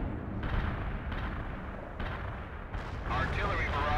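Heavy artillery fires for effect in the World in Conflict war game, a string of deep booming blasts and rumbling impacts rolling one after another under a continuous roar.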